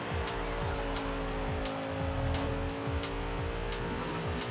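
A car in Forza Horizon 5 drones with a steady engine tone while its tires squeal and skid in repeated bursts, with loud, close game sound and no talking.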